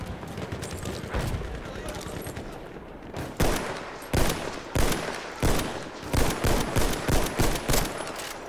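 Gunfire in the World War I shooter Battlefield 1 on the Suez map rings out as rapid, loud bursts of shots repeating in quick succession over battlefield noise, with a voice speaking at times.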